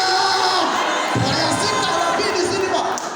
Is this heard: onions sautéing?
no